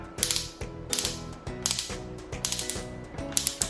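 Clutch ring on a Xenon CDID707 cordless impact drill clicking in a steady ratcheting rhythm, about two bursts per second, close and loud with no voices.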